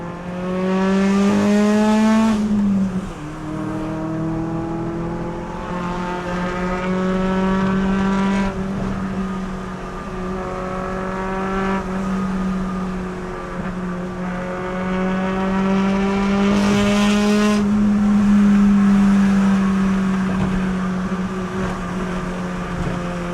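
A 2000 Honda Civic EK9 Type R engine revs hard while driving, climbing repeatedly through the gears with rising whine, brief drops at shifts, loud and close throughout.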